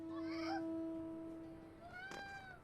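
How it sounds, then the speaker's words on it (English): A cat mount meowing in Final Fantasy XIV, with a short high meow near the start and a second rising meow later, clear and close over a steady game tone. "the meowing."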